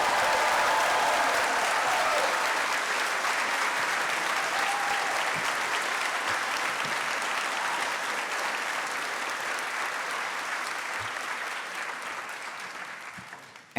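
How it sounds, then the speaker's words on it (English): A graduating medical school class applauds its supporters at a 2024 commencement ceremony, dense, sustained clapping from a large crowd that starts loud and slowly tapers over about fourteen seconds. "how about class of 24 giving a round of applause to your supporters"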